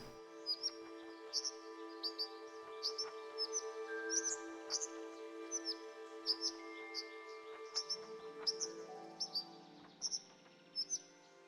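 Birds in a video game tweet in quick bright bursts over a constant droning hum, the calls clustering and repeating near the end as the background tone shifts lower, soft and without speech.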